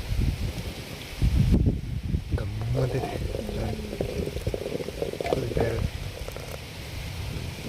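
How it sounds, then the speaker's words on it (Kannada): A pot of greens saaru (leafy soup) simmers and bubbles over an open courtyard fire, a low gurgling bed under intermittent talk and a few clattering knocks. "ಕುದಿತೈತೆ"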